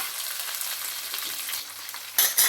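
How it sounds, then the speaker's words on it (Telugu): Okra fries in hot oil with curry leaves and crushed garlic, a dense close sizzle holding steady, then two sharp louder bursts of spitting near the end. "ఇవి కొంచెం బాగా ఫ్రై అయిపోయిన తర్వాత కరివేపాకు, 4-5 వెల్లుల్లి గిద్దలు కచ్చపచ్చగా దంచి వేసుకోవాలి"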